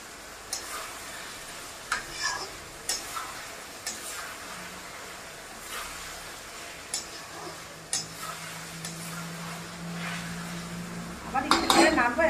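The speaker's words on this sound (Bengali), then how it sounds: "এবার আমি ভালো করে কন্টিনিউ নেড়ে যাব যাতে নিচে না লেগে যায়।" Chicken masala fry stirred in a pan, a spoon scraping and clinking against the metal in irregular strokes over a low steady sizzle, growing busier and louder near the end.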